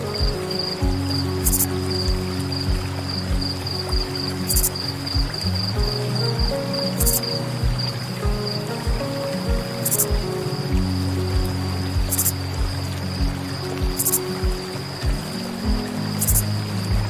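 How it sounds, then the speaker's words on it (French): A steady high-pitched insect chirping, likely crickets, with regular rhythmic pulses over a dense background of patter and low rumble. "Chut! Écoutez les criquets."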